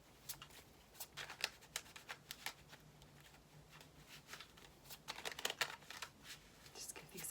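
Quick bursts of tarot card shuffling, papery riffles and crisp flicks repeating close by, pausing briefly before another flurry near the end.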